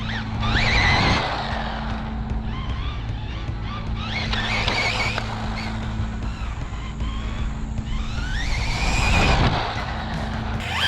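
A Rlaarlo AK-787 brushless RC car runs on a 2S battery in a parking lot, its high electric whine rising and falling through continuous passes, with tire scrubs and louder bursts near the start and end.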